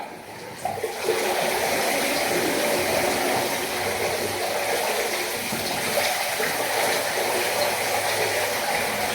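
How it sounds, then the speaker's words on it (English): Clean water gushes steadily from a tap into a big bathtub, a continuous splashing rush that holds for several seconds after a brief quieter start. "I'm going to fill this up with some clean water"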